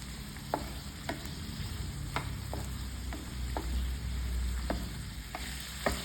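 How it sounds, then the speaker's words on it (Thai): Chinese sausage is stir-fried in a pan until its liquid cooks off into oil, giving a steady close sizzle with sharp spatula taps and scrapes every second or so, and no voices. "ยังให้เราผัดไปเรื่อย ๆจนกว่าน้ำเนี่ยมันจะแห้ง และกลายเป็นน้ำมันเดี๋ยวมันก็จะค่อยๆกรอบ"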